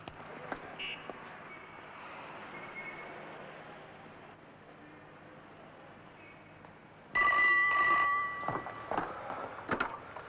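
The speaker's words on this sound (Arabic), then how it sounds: "الاستاذ زين العابدين تليفون" A telephone in an old Egyptian film scene rings out suddenly after a stretch of quiet room tone, a loud electric bell trill that repeats close by.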